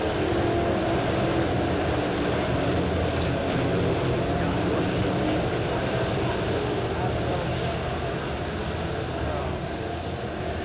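Midwest Modified race cars roar around a dirt oval at Springfield Raceway under the lights, a loud, continuous engine drone building on the throttle, with an announcer talking over the noise.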